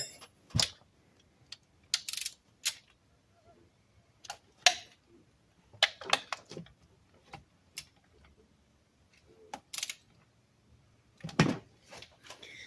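Ratchet wrench clicking while tightening bolts on the intake of a 2008 Dodge Charger, sharp irregular clicks and knocks in scattered bursts with quiet gaps between them, close and fairly crisp.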